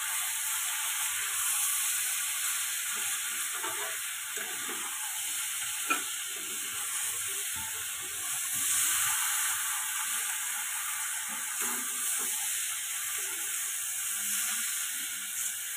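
Green beans sautéing in a pan with a little sugar make a steady, moderate sizzle and hiss, with soft scraping as they are stirred, and no talking.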